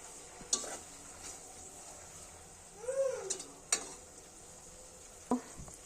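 Leaves, amla and small chopped salad onions stirred in a frying pan, giving a low steady sizzle with a few soft scrapes and clinks of the spoon against the pan.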